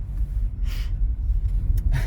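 A car creeping slowly over an icy surface, giving a steady low rumble with a few crackling, scraping bursts from the tires on ice, close and continuous without talk.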